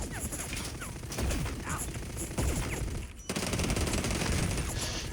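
Gunfire in the video game Hawked, including suppressed shots, comes as a dense, steady stream of rapid crackling bursts across the whole stretch, loud and continuous, with a brief dip near the middle before resuming.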